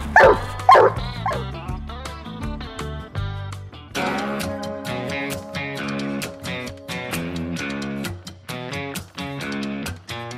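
Grays coonhounds bay and bark on a night coon hunt, a young female and a pup among them, giving loud, close, rhythmic bawls and yips that overlap in a steady chorus, with no talk over them.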